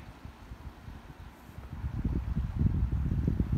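Wind gusts buffet a stormy, flooded hammock campsite, starting as a soft low rumble and then swelling into stronger, rougher blustering toward the end. No voices are heard.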